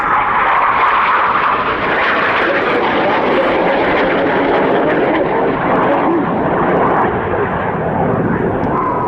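Red Arrows Hawk jets fly in display formation at RIAT 2022, their engines producing a loud, steady broadband roar that holds through the whole stretch, with a commentator speaking over it.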